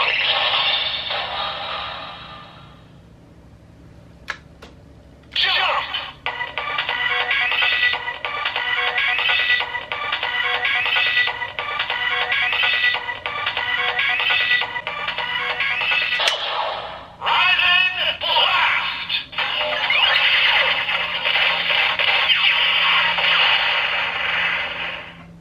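Shot Riser toy belt from A.I.M.S. playing loud electronic sound effects and music, with a bright tone, a click, then a long buzzy jingle that pauses briefly and resumes, close and without talk.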